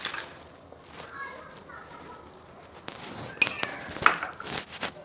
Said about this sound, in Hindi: और बस ऐसे ही चम्मच चलाती जाऊँगी।